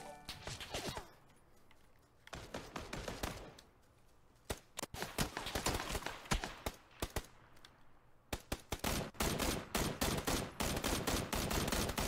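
Rapid bursts of automatic gunfire rattle through a shooter video game, dense volleys broken by short lulls and then resuming in fast, loud strings of shots.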